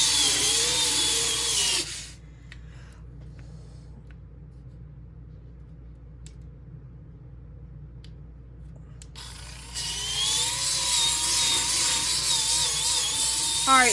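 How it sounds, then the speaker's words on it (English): An electric sander runs on the back of a resin piece being prepared for a topcoat, a steady loud whir that stops for several seconds of near quiet and then starts up again. "I'm going to just go over the whole back real quick and get it sanded down"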